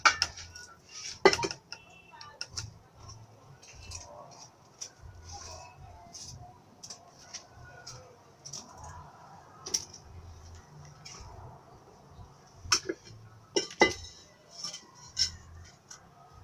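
Metal pots and utensils clink and clatter in irregular bursts while being readied to cook khati khati, a dish from northwest Cameroon. The sounds are close and fairly quiet, with no talking.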